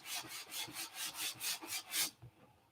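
Sandpaper worked by hand in a crosshatch over a round wooden surface gives about eight rhythmic, close, raspy strokes, evenly paced, before a short softer tail.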